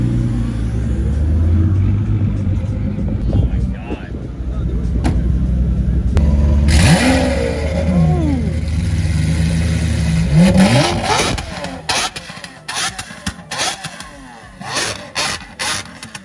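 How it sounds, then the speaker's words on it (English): A Ford GT Mark II supercar approaches and passes during Monterey Car Week, its engine revving and rising in pitch before rumbling away, with crowd and street noise around. "the Ford GT Mark II coming right in"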